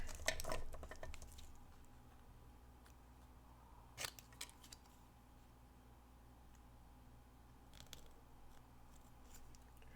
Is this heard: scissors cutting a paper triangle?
yes